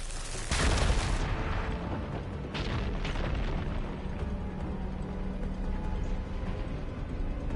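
Fire gleam rubble ignited and blown apart in Horizon Forbidden West: a loud, sudden blast followed by a second burst and a long rumbling, crackling tail with no talking.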